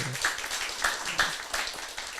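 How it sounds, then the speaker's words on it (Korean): A few scattered, fairly quiet claps from a small group in a church Bible class, coming in short bursts rather than a steady round of applause. "박수 한번 쳐주세요."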